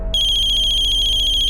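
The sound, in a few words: telephone ringtone of a ransom call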